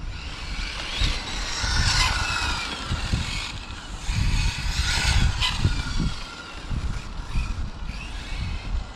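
A Hobao Hyper GT radio-controlled car drives under power, its motor whining and surging in continuous waves as the throttle rises and falls, with no voices.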